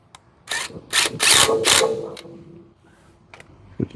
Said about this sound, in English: put a lug nut in here